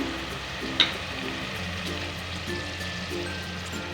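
Yogurt goes into a pan of sizzling spices for a chickpea salan, giving a steady low frying crackle with one sharp clink near the start; no one speaks.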